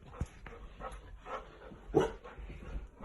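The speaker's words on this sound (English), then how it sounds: "That's a puppy." A puppy gives a few soft, short yips and barks, quiet and somewhat distant, scattered irregularly over a brief stretch with faint background rustle.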